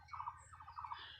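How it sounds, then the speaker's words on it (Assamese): Birds chirp and squawk in a tea garden in Assam, a few quick, faint calls in a quiet open setting. "চৰাই চিৰিকটিৰ শব্দও শুনিবলৈ নিশ্চয় পাইছে।"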